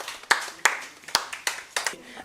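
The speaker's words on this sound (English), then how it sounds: "Let's clap for Angelo" Several sharp hand claps from a small audience at a children's Nigeria Independence Day quiz in Benin City, spaced in a loose irregular rhythm of about six bursts, with faint voices underneath.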